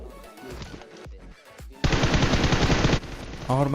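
Automatic gunfire in PUBG Mobile, a loud sustained burst of rapid shots lasting about a second, preceded by scattered game sounds and followed by a brief pause and another short burst.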